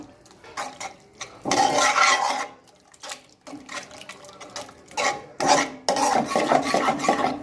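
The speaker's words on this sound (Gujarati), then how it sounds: "તમારે થોડું થોડું દૂધ મિક્સ કરતું જવાનું છે અને સરસ એકદમ આપણે હલાવતું જવાનું છે" A spoon scrapes and swirls milk into a thick flour paste in a pan for white sauce pasta, making rhythmic rasping rubs in repeated bursts with short pauses between them.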